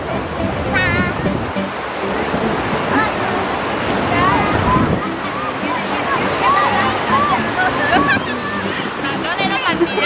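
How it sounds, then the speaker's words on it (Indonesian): Strong wind roaring and buffeting the microphone at a waterfall at Kapalo Banda Taram in Payakumbuh, Sumatra, with loud rushing water underneath and people talking throughout. "Ada angin kencang."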